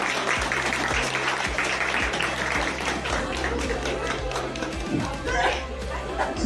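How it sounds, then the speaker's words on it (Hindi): Loud, sustained applause from an audience at a women's empowerment event, dense clapping mixed with crowd chatter and a steady rhythmic beat of music underneath, voices talking through it. "एक बार जोरदार तालियां होनी चाहिए।"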